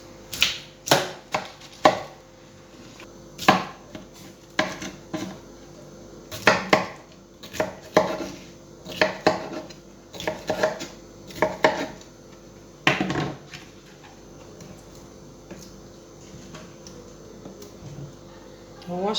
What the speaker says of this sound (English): we'll go ahead and cut the pineapple